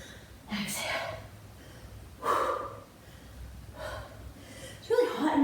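Forceful breaths pushed out during a core workout of alternating elbow-to-knee crunches in a hot home garage, several sharp exhales in a loose rhythm, close and fairly loud, with a heavier burst near the end.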